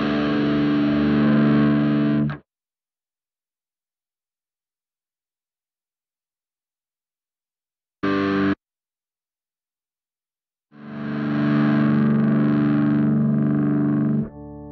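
Sustained electric guitar chords with a thick organ-like tone behind them, broken by long silences and one brief burst.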